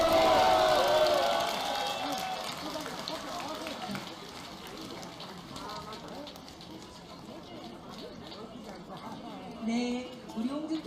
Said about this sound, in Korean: 시민 여러분, 다시 한번 뜨거운 박수 보내주시기 바랍니다